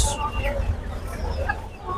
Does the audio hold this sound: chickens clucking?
yes